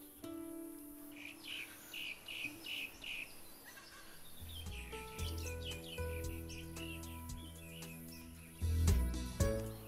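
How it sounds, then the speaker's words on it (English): Melithreptus honeyeaters call from foliage in hot Australian bush: repeated short high chirps and twittering notes in clustered bursts, moderately near, with low background rumble and some thumps. "It's one of the Melithreptus group of honeyeaters"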